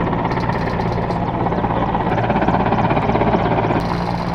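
A helicopter roars steadily and loudly nearby, its rotor giving a continuous throbbing drone throughout.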